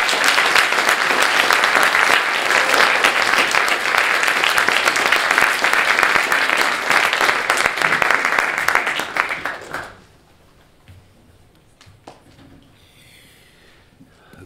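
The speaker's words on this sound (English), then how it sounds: "Can we have a huge round of applause for Ilan Pappé?" Warm applause from an audience welcoming a speaker at a talk, dense and sustained for about ten seconds before fading abruptly into a quiet room with faint rustling.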